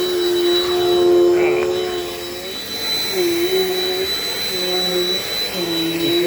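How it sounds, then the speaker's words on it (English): Dirt Devil Dynamite Plus vacuum cleaner running with a steady, continuous whine and hum, close by, while someone talks over it. "this vacuum should do a great job getting all the garbage that I can't get usually"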